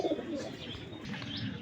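Pigeons coo softly and repeatedly at a pigeon market stall, with faint chirps mixed in, close by and moderately quiet, with no talk over them.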